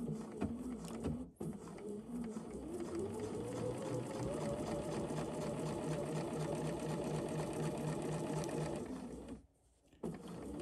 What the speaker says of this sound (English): And then we're just going to do a straight stitch.